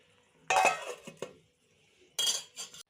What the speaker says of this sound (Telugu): మూత పెట్టేస్తున్నాను